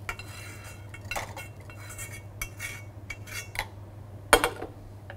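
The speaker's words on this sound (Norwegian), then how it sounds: "Så tar vi grønnsakene og blander sammen med eggemassen." Vegetables being mixed into a beaten egg mixture in a bowl, with a utensil clinking and scraping against the dish in irregular bursts, plus one sharper clink near the end. The sound is close and there is no talking.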